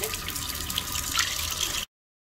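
Hands washed thoroughly under a running tap, a continuous close splash of water for about two seconds that then stops abruptly, with no voices.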